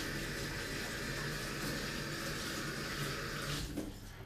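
Warm water running steadily from a tap while raw chicken is rinsed in a sink, a constant close splashing wash that eases off near the end.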